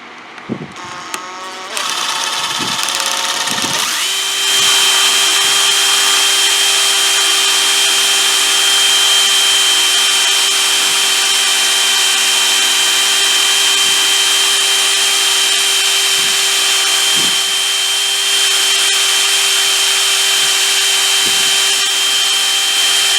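A power drill bores into metal to remove a broken easy out, starting with a few short bursts and then running as a steady, loud whine for about twenty seconds.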